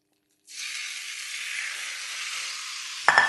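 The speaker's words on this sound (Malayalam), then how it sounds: "ഇനി പാൻ നല്ല ചൂടായിട്ട് വരുമ്പോൾ നമ്മുടെ ചിക്കൻ ഫുള്ളിനകത്തേക്ക് ഇട്ടിട്ട്" Chicken pieces hitting a very hot pan for chicken and bacon pasta, setting off a steady, loud sizzle that holds evenly for about three seconds, then a sharp clatter and spatter near the end as the pieces are stirred.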